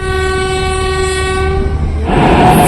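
A train horn blares a long steady tone at Gadwal railway station, then gives way to the loud rumble and rattle of a train passing close by.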